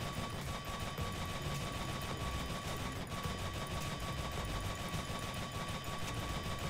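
Rapid, constant shooting in a video game aim trainer as balls are shot one after another, a dense unbroken stream of quick shots at even loudness.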